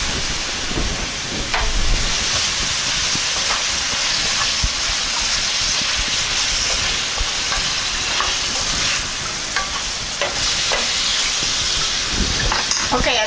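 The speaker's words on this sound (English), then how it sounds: "Sauteed peppers and onions with honey." Peppers and onions sizzle steadily with honey in a hot pan, a dense continuous crackle and hiss with occasional stirring scrapes, close and loud throughout.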